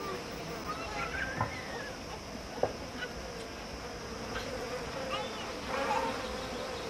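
Domestic honeybees in Nepal make a soft, continuous buzzing swarm around the listener, with individual bees droning nearer and farther and a brief tap partway through.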